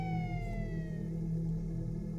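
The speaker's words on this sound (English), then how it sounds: "the police end up turning their sirens and chasing them." Police car sirens in a film chase scene, a wailing siren tone sliding downward at moderate distance over a low rumbling background, with no voices.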